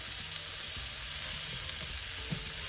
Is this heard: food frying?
yes